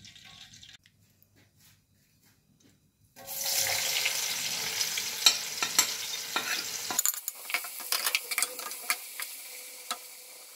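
After about three seconds of near quiet, onions start frying for biryani in oil left from browning meat on a gas stove, with a sudden loud sizzle followed by scattered crackles and stirring clicks as it settles.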